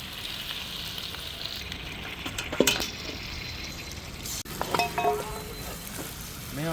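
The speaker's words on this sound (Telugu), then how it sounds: "ఇప్పుడైతే టమాటాలు మంచిగా మగ్గిపోయినాయి కాబట్టి ఇప్పుడైతే చికెన్ అయితే వేసేసుకుంటున్నాను" Chicken pieces hit a pan of soft-cooked tomatoes and sizzle steadily, with a continuous close frying hiss and occasional clinks and stirring scrapes.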